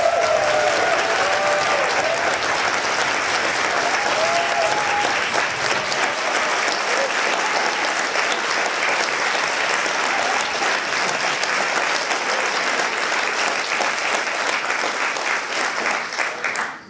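A large crowd gives sustained, loud applause for a performer at a university poetry slam, a thick, even wash of clapping that holds for over fifteen seconds before tapering off at the very end.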